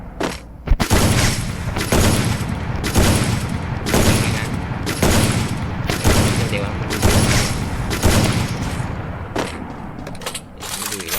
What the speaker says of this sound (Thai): ยิงอย่างนี้ใช่ไหม ยิงปึ๊บ